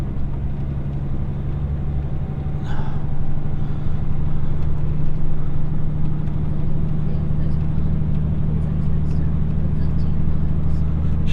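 A heavy goods truck engine labours up a hill in seventh gear with a deep, steady drone that grows slightly stronger as it pulls, close and loud, with a brief voice early on.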